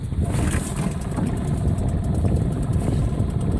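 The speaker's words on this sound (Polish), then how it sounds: "Odpalanie silnika." A boat's outboard motor runs on a thawing lake in early spring among broken ice, a loud steady close engine drone held without a break, no talk over it.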